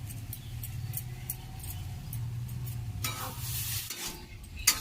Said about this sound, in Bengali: আমি মোচাটা একটু নেড়ে ফেড়ে